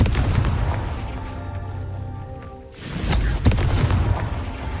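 A Confringo fire spell explodes in the Hogwarts Legacy video game: a low rumbling blast builds, dips briefly, then booms loudly again with sharp cracks.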